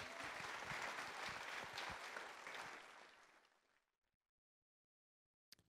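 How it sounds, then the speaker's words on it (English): An audience at a student travel program info meeting applauds steadily for a few seconds, then the clapping thins out and fades to silence, followed by one faint knock. "So let's give them one more round of applause."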